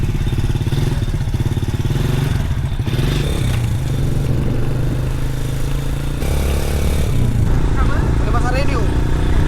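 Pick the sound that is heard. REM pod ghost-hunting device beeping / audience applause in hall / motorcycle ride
motorcycle ride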